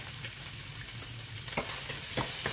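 Onion frying in a pan for chicken caldereta, producing a continuous close sizzle with a few scraping stirs of a utensil against the pan and no talking.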